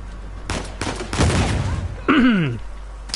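Gunfire in the video game Uncharted 4: several sharp broadband bursts in quick succession, one heavier blast in the middle, followed by a tonal, warbling game effect near the end.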